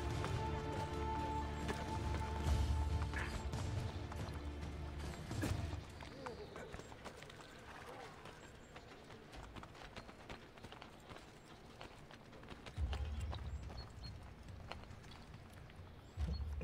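Horse hooves clip-clopping at a run in Assassin's Creed Brotherhood, a steady galloping rhythm under game music and other effects, with people talking over it.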